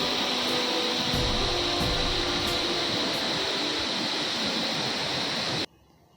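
A swift river rushes near Jung Falls waterfall in Arunachal Pradesh, a dense, loud roar of flowing water that holds steady and close before cutting off abruptly near the end.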